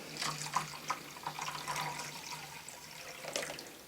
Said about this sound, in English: if we just pour this on into the little receptacle there